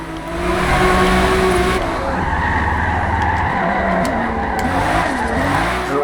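A 1998 Toyota Supra RZ with an all-wheel-drive drift tune slides sideways through a turn in Forza, a continuous loud tire skid layered over a steady engine drone.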